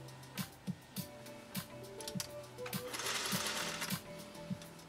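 A 1956 Singer 401A sewing machine stitching, with a steady series of soft mechanical thumps and clicks from the needle, faint and close, followed by a louder whirring run, with no talk.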